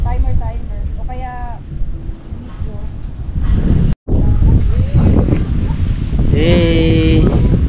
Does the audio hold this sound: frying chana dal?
no